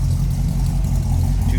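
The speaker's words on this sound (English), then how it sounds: "glass packs or cherry bombs on there. It's got a little bit of rumble. That old school hot rod sound" Low, steady exhaust rumble from a 1955 Ford Customline sedan's 272 V8 fitted with glass pack or cherry bomb mufflers, idling loud and close with a slight rev swell, with no talk over it.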